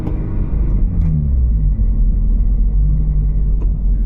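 A Subaru BRZ engine pulls steadily under acceleration, a loud continuous low rumble with a brief dip around the shift from first to second gear near 3,000 RPM, heard from inside the car.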